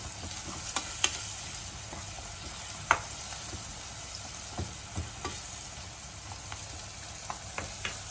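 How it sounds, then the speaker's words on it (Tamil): Tomatoes sautéing in a pan with a little salt, a low, steady sizzle with scattered soft clicks and taps of a spoon, quiet and even throughout with no voices. "இப்போ வந்து தக்காளி அப்படியே வதக்க விடணும் நல்லா"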